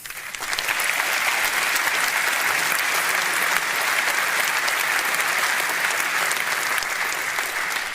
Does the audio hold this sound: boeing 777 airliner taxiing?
no